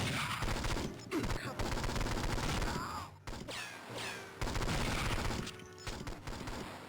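Continuous loud gunfire from the 2003 Game Boy Advance game 007: Nightfire, rapid chiptune-style shots in dense bursts with brief pauses and sweeping electronic whines between volleys.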